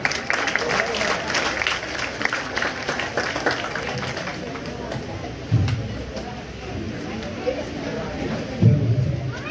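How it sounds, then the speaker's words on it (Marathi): Guests at an engagement ceremony clap to welcome the groom, a loose, continuous patter of applause from a nearby crowd mixed with voices and background talk. "पुन्हा टाळ्या वाजून त्याचं स्वागत करायचं"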